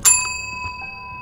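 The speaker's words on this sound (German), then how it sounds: "ich gehe jetzt zur Klingel" A single bright doorbell chime in the Suite 776 game rings once sharply and then decays as a clean sustained ring, with a faint second tap shortly after.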